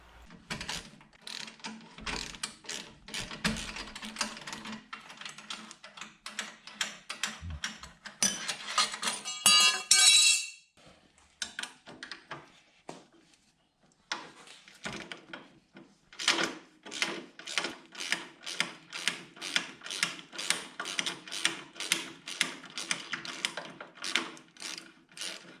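A ratchet works the 12mm bolts on the left front foot peg of a 2003 Honda Shadow 1100, close rhythmic clicking in bursts, with a brief louder metallic rattle midway and a long even run of strokes toward the end.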